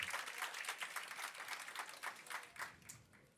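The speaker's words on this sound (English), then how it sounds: "Give them a round of applause to come up" Audience applause at a women-in-leadership tech event as volunteers come up, a steady patter of clapping throughout that fades slightly near the end.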